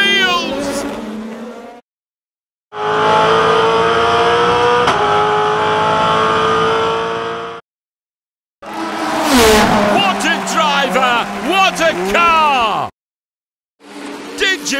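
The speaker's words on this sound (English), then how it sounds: "He's pushing this car to its limits today." Race car engine revving and roaring from a racing-helmet talking bottle opener: loud bursts of rising and falling engine whine with squealing tires, split by short silences, with a voice talking between them.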